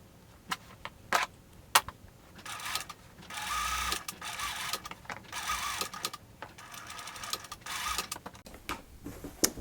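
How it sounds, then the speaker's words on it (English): A sewing machine top-stitches recycled sweater fabric for an upcycled dress, running in short rapid bursts of mechanical whirring with clicks and pauses between stitching runs, close and moderately loud. "I'm gonna pin and just do a top stitch over it"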